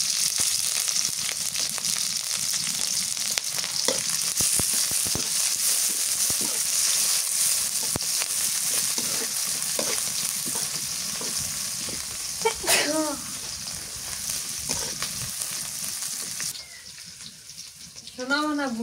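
Black cumin, chopped onion and sliced green chilies sizzle in hot oil while being stirred, a steady frying hiss with scraping and clinks of the spoon, brief voices and a child's cry breaking in near the end.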